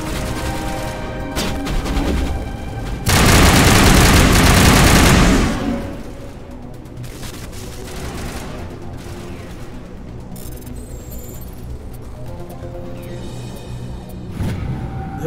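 Sustained gunfire from a firefight in the video game Mass Effect 1, with a loud burst of rapid fire standing out in the middle and quieter shots continuing around it.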